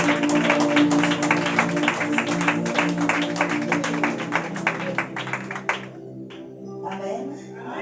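A church congregation claps and cheers in a loud, sustained burst of rhythmic applause, with music and voices underneath, fading out after about six seconds.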